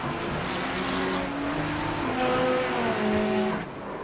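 A GT3 race car in the iRacing sim at Zolder runs off the track, its engine a loud, sustained whine with shifting pitch and a hint of tire scrub, with no other sound over it.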